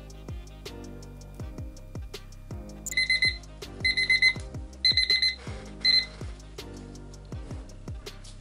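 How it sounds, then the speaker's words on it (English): A five-minute kitchen-style timer alarm goes off in four short bursts of rapid high beeping, clearly audible over a steady rhythmic background of plucked music. "Set our timer for 5 minutes."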